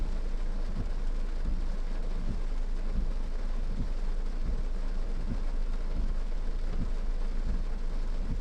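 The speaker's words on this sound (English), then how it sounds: "we're on the very northern fringe of this thunderstorm cell." Thunder from a nearby storm cell rolls low under steady heavy rain beside a Long Island Rail Road line, a continuous rumbling wash with faint periodic thumps, unchanging in loudness and free of voices.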